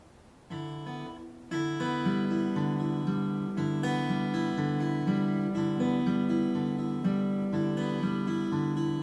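An acoustic guitar picks out a repeating fingerstyle pattern, a few notes first then a steady, even rhythm of plucked strings, clear and close.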